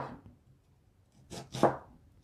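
A knife chops through a stout homegrown onion on a cutting board, two quick crisp strokes close by after a brief rustle, then quiet.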